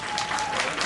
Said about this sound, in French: on peut applaudir fortement